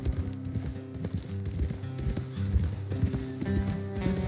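Horse hooves clip-clopping at a steady walking rhythm in Red Dead Redemption 2, close and continuous, with a faint voice briefly underneath.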